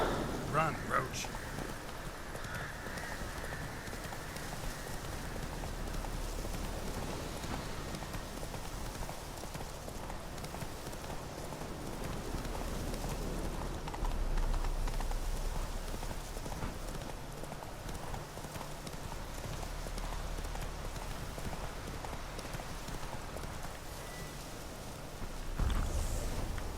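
Horse galloping in The Witcher 3, rhythmic hoof clip-clop running continuously under ambient game sound, with someone speaking over it at times.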